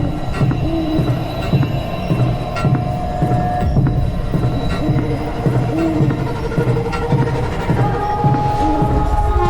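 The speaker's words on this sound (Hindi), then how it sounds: "ट्रेन चल पड़ती है।" A cartoon train pulls away from a station, its loud steady rumble and rhythmic clatter of wagons rolling throughout, with faint squeals and a hum on top, no talking.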